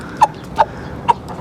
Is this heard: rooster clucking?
yes